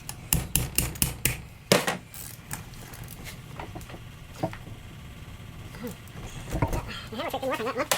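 Sharp hammer blows strike a part of a Wacker Neuson BS60-4S rammer under repair, a quick run of about eight loud metallic knocks at the start, then scattered single hits amid shop noise and low talk.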